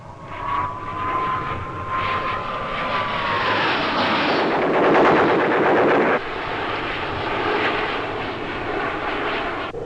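An Alpha Jet fires its gun in a loud sustained burst under the roar of the jet engine, a rapid buzzing rattle of shots that cuts off abruptly, with the engine continuing afterward.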